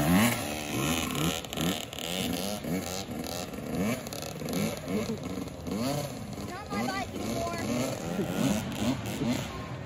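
A 65cc dirt bike engine revs up and down repeatedly, rising and falling in pitch as gears shift, loud and close throughout.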